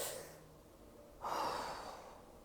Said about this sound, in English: take a deep breath for a second